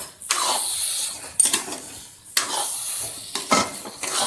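Sugar stirred into carrot halwa in a pan, a spoon scraping in repeated loud strokes about once a second over a soft sizzle, close by with no talking.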